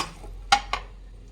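Egg noodles being mixed with coriander leaves in a pan, heard as two quick metal clinks of a spatula against the pan over a faint background, with no talking.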